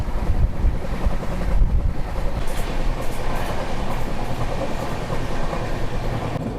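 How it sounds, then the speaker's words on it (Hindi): A train pulling out of Nashik rumbles and clatters steadily along the rails, with wind buffeting the microphone, heard from on board. "हमारी ट्रेन अभी नासिक से खुल रही है"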